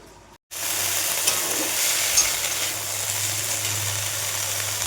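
Red amaranth greens sizzling and frying in hot oil in a pan, a loud steady crackling hiss that starts abruptly after a brief quiet moment and continues without talking.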